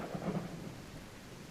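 Thunder in the dinosaur survival game The Isle Evrima, a brief low rumble with soft rain hiss, faint and short.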